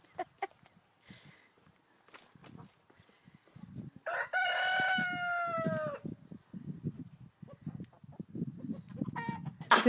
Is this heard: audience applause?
no